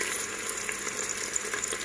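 Meat spring rolls (lobak) fry in hot oil inside a pressure cooker, giving a steady crackling sizzle with scattered pops and bubbling, close and continuous without talk.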